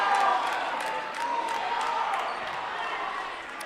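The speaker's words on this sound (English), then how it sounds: "Crowd reacting in both ways" A crowd reacts at a West Jessamine High basketball game, a steady murmur of spectators in the gym with faint ball bounces and sneaker noise in the background.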